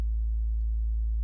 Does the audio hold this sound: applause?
no